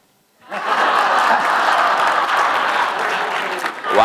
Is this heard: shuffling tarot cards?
no